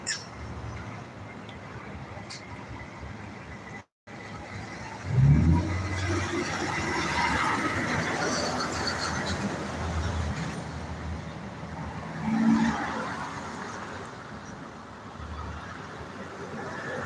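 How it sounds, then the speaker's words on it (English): Utility trucks on a road in Dalton drive past one after another as a steady, fairly faint rumble of traffic. A couple of louder swells mark vehicles going by, with a brief break near the start. "You'll see there's a lot of Dalton Utilities trucks comes by."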